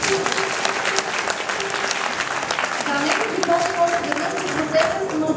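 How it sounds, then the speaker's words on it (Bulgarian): An awards ceremony audience breaks into loud, sustained applause for the competition jury, dense clapping filling the hall with crowd noise and some voices mixed in. "Сега аплодисменти за журито"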